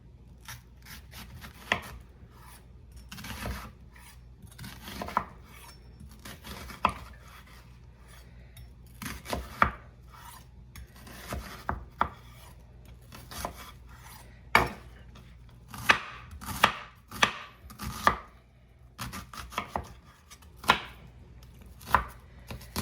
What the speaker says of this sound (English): So I'm going to go ahead and just cut this onion up